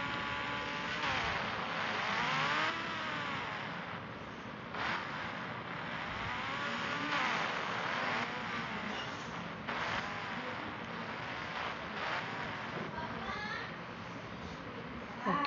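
Cars in the mobile driving game Indian Bike Driving 3D rev and cruise while being driven and parked, with a steady, loud engine drone whose pitch sweeps up and down repeatedly, under occasional talk.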